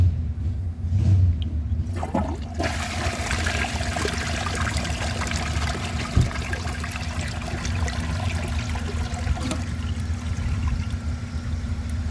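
A 2001 Vortens Vienna toilet flushing with the handle held down, a steady rush of running water and a low rumble lasting throughout, close and fairly loud, with no talking.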